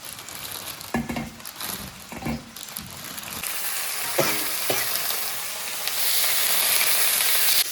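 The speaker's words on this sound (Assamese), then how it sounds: "এতিয়া ভাজি আছে এই মাংস" Chicken meat frying in a pan at home for chicken Maggi noodles, a steady close sizzle with occasional stirring scrapes and light utensil clatter, growing a little louder toward the end.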